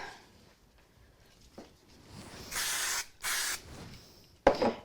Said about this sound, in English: I think I'll use a little bit of spray glue on the back.